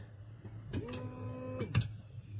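A boat's seawater machine, just repaired, starts up with a brief whirring motor whine of about a second that rises and cuts off, heard over a steady low onboard hum.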